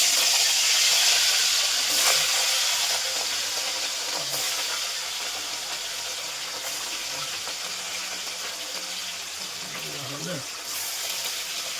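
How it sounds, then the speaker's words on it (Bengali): Fish frying in hot oil in a kadai, a steady broadband sizzle and hiss that fades slightly over time, with faint talk in the background. "তেল হয়ে গেছে গরম, এবার একে একে মাছ ছেড়ে দেবো।"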